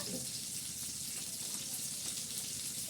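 Onion frying in oil in a pan on the stove, a steady close sizzle with faint crackle running evenly throughout, no voices.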